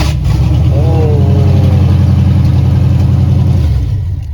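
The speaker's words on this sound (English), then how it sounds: "it sounds like a straight up race truck" A truck engine with a custom headers-only exhaust rumbles loud and deep throughout, a steady heavy drone with a brief rising rev near the start before settling toward the end.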